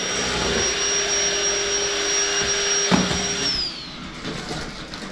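A household vacuum cleaner runs loudly up close during house cleaning, its steady roar topped by a high whine, then it switches off and spins down with a falling pitch.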